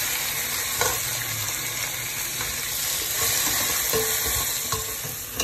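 Ground tomatoes hitting sautéed onions in a pot for mutton biryani, a loud, dense sizzle that carries on close and steady, broken by scraping stirs and light clinks.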